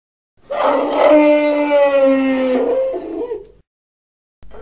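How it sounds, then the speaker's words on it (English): A cartoon steam engine's loud, close whistle blows with a wavering, trumpeting tone that sounds like an elephant, lasting about three seconds before cutting off. "I think I know why your whistle sounds like an elephant, Thomas."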